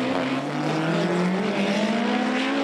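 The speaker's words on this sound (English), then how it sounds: "this run will see Dougie Gemmell in the right lane against Alan Duffy in the left lane" A front-wheel-drive drag racing car, a Corsa, roars loudly and continuously at a 2018 FWD Drag Series round, its engine note climbing steadily in pitch.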